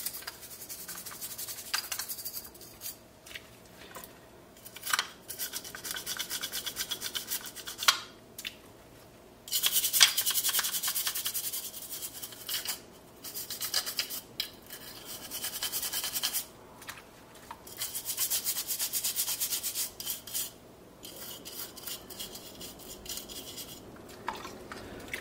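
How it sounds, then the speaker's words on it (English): A toothbrush scrubs dirt out of the grooves and figure cavity of a vintage Star Wars mini-rig, giving close, bursty bristle rubs and scratches in irregular strokes separated by short pauses. "Luckily with a toothbrush you can get right in there and clean it out."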